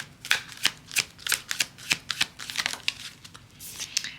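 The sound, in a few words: tarot cards being shuffled and drawn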